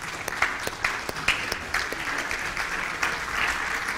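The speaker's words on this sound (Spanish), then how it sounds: "Pongámonos de pie y démosle un fuerte aplauso al Señor." A church congregation on its feet gives a loud round of applause, dense steady clapping with sharper individual claps popping out, filling a large room with no voices on top.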